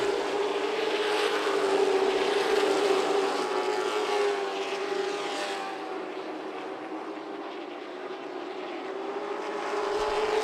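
Race cars at Myrtle Beach Speedway roaring past down the straightaway, a loud sustained engine drone that swells and eases as the pack goes by, heard from a distance without voices.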